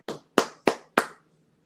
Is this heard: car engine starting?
no